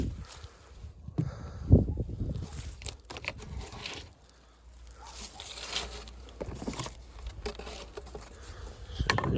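Bees buzz around a pair of beehives outdoors on a windy day, a steady insect hum with scattered close passes and rustling, with no speech over it.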